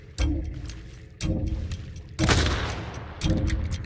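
Gunshots striking water in the video game Hunt: Showdown, four sharp impacts with splashy bursts spaced about a second apart, moderately loud with no talk.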